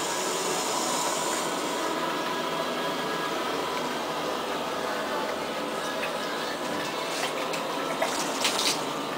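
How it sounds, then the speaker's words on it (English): Hot water running steadily out of home-brewing equipment, a soft, continuous hiss and trickle heard close by, with faint clicks near the end. "That's hot water coming out of there."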